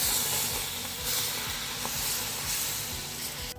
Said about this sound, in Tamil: இப்போ வந்து தோசை ஊற்றிக்குவோம்